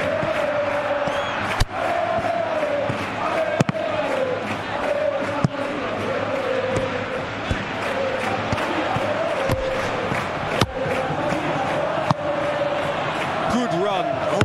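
A stadium crowd in a FIFA football video game match gives a steady loud roar with sharp kick-like thumps, while commentary plays over it throughout.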